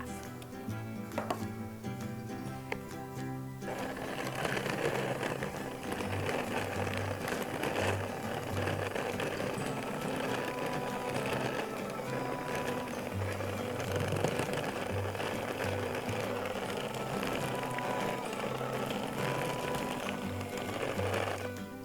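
An electric mixer blending a mixture in its bowl, a continuous loud whirring hum with rhythmic rattling that settles into a steady drone after a few seconds, no talking.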